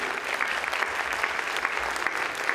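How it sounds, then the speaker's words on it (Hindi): Audience applause fills a gathering hall at a Hindi poetry sammelan, a dense steady clapping from many hands that holds at an even level throughout, with no talk over it. "आप जरा तालियां बजा के उसको बाहर बताइए।"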